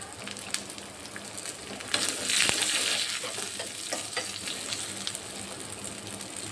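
Garlic and curry leaves frying in hot oil, a steady close crackling sizzle with stirring scrapes and a brief louder burst of spatter partway through, no voices.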